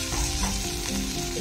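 Peas and shredded cabbage frying and being stirred in a hot pan for vegetable masala Maggi, a steady close sizzle with scraping stir strokes, no talking.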